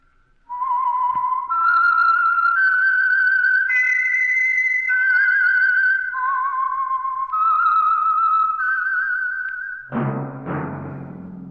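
A solo whistled melody, the theme signal of the radio program The Whistler, rises and falls through clear sustained notes for about ten seconds, then gives way abruptly to a loud orchestral chord at the end.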